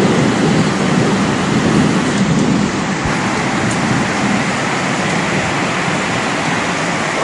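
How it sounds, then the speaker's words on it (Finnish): Heavy tropical rain pours down in Thailand during a thunderstorm, a loud, dense, unbroken hiss of drops that holds steady throughout with no voices. "Aika hyvin tulee kyllä jo vettä."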